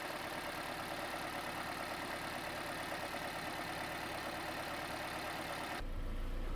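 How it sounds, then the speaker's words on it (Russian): A car engine idles steadily on dimexide injector-cleaning fluid, with the fuel pressure supplied by a compressor instead of the fuel pump. The hum is even and continuous, then a deeper low rumble comes in during the final half second. "Движок держит холостые четко, стрелка на тахометре не дергается."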